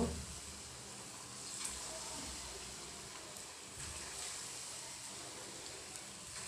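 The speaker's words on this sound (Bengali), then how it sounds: "তেলটা গরম হয়েছে এখন হচ্ছে আমি এই যে পিঠাগুলো ছেড়ে দিছি অল্প ছোট ছোট করে" Small pieces of bora pitha dough made with ripe mango, coconut and banana fry in hot oil, producing a faint, even, continuous sizzle with no talking.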